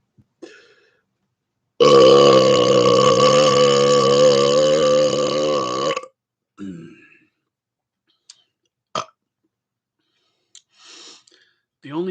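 One very long, loud human burp rumbles for about four seconds at close range, followed by shorter breaths and small throat sounds.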